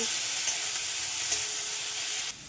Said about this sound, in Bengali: আমি পনিরগুলোকে ভেজে নিচ্ছি